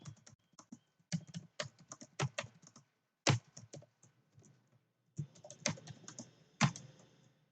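Keys clacking on a computer keyboard while a Java main function is typed, in irregular bursts of quick taps with short pauses, close and fairly quiet with no talking.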